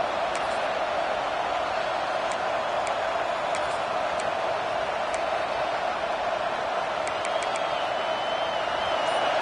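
A home crowd at a college football game keeps up a steady, loud roar of cheering throughout, with faint high whistles rising late, like a broadcast stadium ambience.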